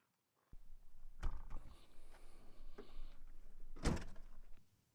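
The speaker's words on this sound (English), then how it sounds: "you can still operate the slide and open the drawer" Hooke Road cargo drawer system and fridge slide in a Jeep Wrangler JK or JL being pulled open, a close sliding rumble with a couple of sharp knocks and clunks, ending in a loud thud before it quiets.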